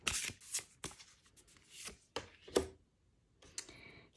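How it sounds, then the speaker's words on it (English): A large tarot deck being shuffled by hand, a series of close, crisp riffling and slapping bursts with short pauses between them, no voices. "let's have another shuffle."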